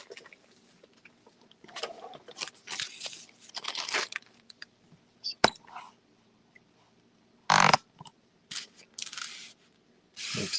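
A sheet of paper is picked up and handled after being dropped, giving scattered close crinkles and crunchy rustles in short irregular bursts, with one sharp louder crumple near the end and quiet gaps between.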